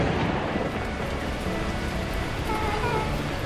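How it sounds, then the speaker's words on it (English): Heavy torrential rain pours steadily in the video game Beacon Pines, a dense, constant hiss with low rumbling thunder underneath, continuous throughout. "the heavens opened up, unleashing torrential rain"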